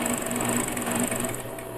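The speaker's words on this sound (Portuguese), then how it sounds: "E aí eu só vou dobrando e costurando." Steady, close whir of a sewing machine running continuously as it stitches stretch bias binding onto a back neckline, with no pauses or voices.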